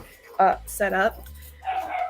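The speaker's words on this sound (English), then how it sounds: "my dog got angry at something" Dog barking indoors during a live stream: two sharp, close barks in quick succession, then a softer whining yip, with low household hum underneath.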